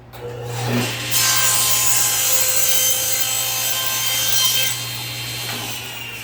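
A power saw cuts a 45-degree miter in wooden picture-frame stock, giving a steady, loud broadband whir that runs about five seconds over a low hum before trailing off, with no talking.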